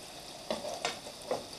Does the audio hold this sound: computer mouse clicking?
no